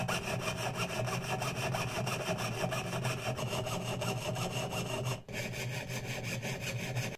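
A jeweller's saw cutting through material in rapid, even back-and-forth strokes, a close, quiet rasping rhythm that barely pauses before carrying on.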